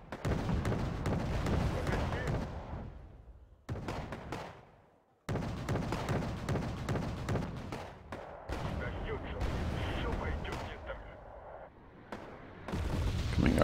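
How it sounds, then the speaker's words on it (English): Heavy booming artillery fire in the strategy game Wargame: AirLand Battle, dense rumbling blasts rolling one into another, loud and continuous with brief gaps, under a voice speaking. "Coming artillery."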